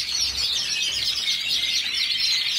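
A dense chorus of small cage birds sings without pause in an aviary flight cage, loud, bright and close, with overlapping chirps and trills and no voices.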